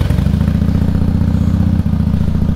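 A Harley motorcycle engine runs loud and close with a steady low, lumpy idle rumble after starting, briefly dipping near the end before settling back into the same throbbing beat.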